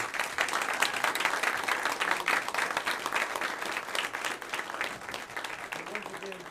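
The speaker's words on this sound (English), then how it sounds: "So you deserve a huge round of applause from everybody here in the audience" An audience at a school district board meeting applauds a high school choir, a moderately distant, steady roll of many hands that continues throughout with faint crowd murmur beneath.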